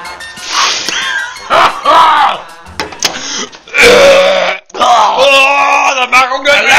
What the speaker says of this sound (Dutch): Dat mag ook nog lekker boeren erbij.